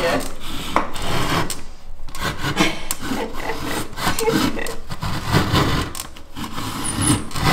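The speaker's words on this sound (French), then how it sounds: "Donc il est en train de le râper avec la scie japonaise." Steady rough rasping and scraping as a Japanese saw is rubbed back and forth against drywall, continuous and close with uneven strokes.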